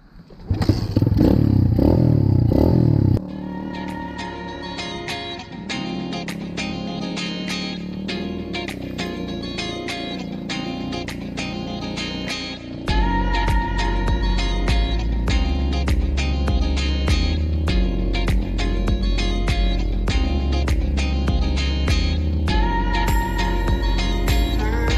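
A Jumper FX125 trail bike, kick-start only with no battery and the choke on, fires into a loud burst, then settles into a steady idle with rapid mechanical ticking and clatter, the engine note firming up partway through.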